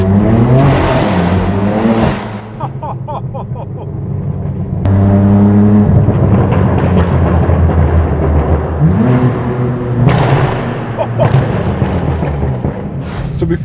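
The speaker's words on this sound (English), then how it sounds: "This thing does have the straight piped exhaust system on the car still," Straight-piped BMW M4 F82 exhaust roaring as the car accelerates, with repeated loud revving surges, rising pitch through gears and sharp crackles, close and dominant throughout.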